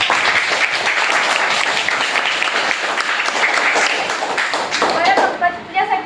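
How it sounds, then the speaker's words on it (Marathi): Schoolchildren at a village primary school quiz applauding a winner, a dense, close burst of many hands clapping that carries on steadily and thins out near the end. "पंकजसाठी सगळ्यांनी टाळ्या वाजवा"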